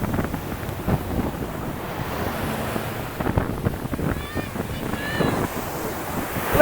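Rough sea surf rolls steadily under gusty wind that rumbles against the microphone, with a few distant voices and shouts mixed in near the shore.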